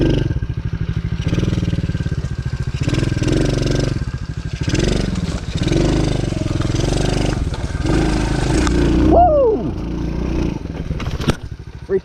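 A dirt bike engine revs and putters close by while riding over rough ground, with uneven throttle bursts, clattering and scraping, then a brief squeal near the end.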